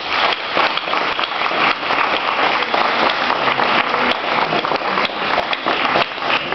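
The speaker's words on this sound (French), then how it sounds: "Bonne main d'applaudissements pour vous." Sustained, dense applause from an audience at a poetry reading event, steady and close with many hands clapping together at an even level throughout.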